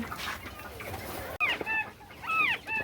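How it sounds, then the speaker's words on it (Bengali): Snowflake and northern bobwhite quails in a box give a few short, high chirping calls over rustling and scuffling, close by and brief, with no talking. "এই হচ্ছে আমাদের কোয়েলগুলো"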